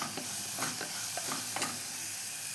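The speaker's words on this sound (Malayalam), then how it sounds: "അപ്പോൾ ഇതാ എൻ്റെ ഉള്ളി വഴന്ന് വന്നിട്ടുണ്ട്." Onions sautéing in a pan for a Kerala-style roasted-coconut breadfruit masala curry, with a steady soft sizzle and several scraping stirs of a spoon against the pan, close and alone.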